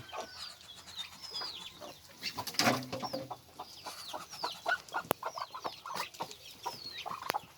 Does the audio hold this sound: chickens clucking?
yes